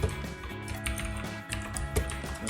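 Rapid typing on a computer keyboard while coding a sign-in form, close and clear, with crisp irregular keystrokes clustering in quick bursts and no talking.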